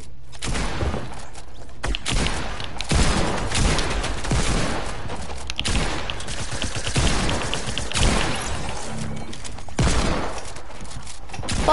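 SMG bursts in a video game: rapid, dense gunfire rattles almost continuously, with intermittent louder shots and a busy mix of game effects throughout.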